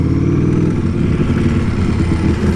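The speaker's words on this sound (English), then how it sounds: "beautiful Ducati V4 sound." Ducati Streetfighter V4 motorcycle with a dry clutch, its V4 engine running loud and close in a steady, gritty growl with a rattling undertone.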